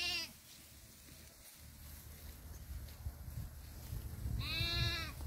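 Sheep or goats from a flock of about a hundred grazing on dry farmland bleat, one call near the start and a louder, closer one near the end, over steady outdoor background noise.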